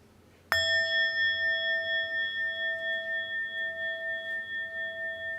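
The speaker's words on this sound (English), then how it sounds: "I'll invite one more sound of the bell" A meditation bell struck once during a family dharma service, ringing out with a clear, sustained tone that slowly fades and gently pulses over several seconds, heard alone in a quiet room.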